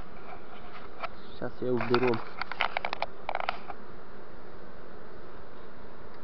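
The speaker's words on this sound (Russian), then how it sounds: "Под доской у нас целая его жменья пчел висит там." A swarm of honey bees hangs under a board in a multi-queen swarm, giving a constant close buzzing drone throughout, with a few brief handling knocks and someone speaking over it.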